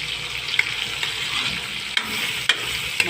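Patula sautéing with eggs in a pan makes a loud, close sizzle and hiss, with a few sharp utensil clicks against the pan.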